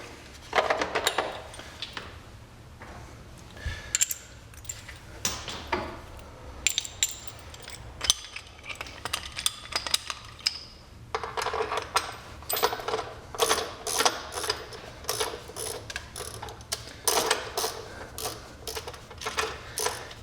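Metallic ratcheting and clicking as an OES Accessories frame slider bolt is screwed by hand onto a 2010 Kawasaki Z1000 motorcycle, close and fairly loud, in irregular bursts of rapid ticks with brief pauses.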